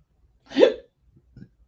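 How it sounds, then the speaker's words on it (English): A single sharp, close hiccup from a person, followed by a faint small catch of breath a moment later, with quiet surroundings. "These hiccups are real."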